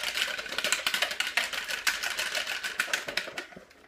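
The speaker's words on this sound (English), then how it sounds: "I'm just going to use a normal wire whisk, and we're going to beat this until it starts to form peaks" Cream beaten by hand with a normal wire whisk until it forms peaks, a fast, steady clatter of wire strokes against the bowl, close and continuous.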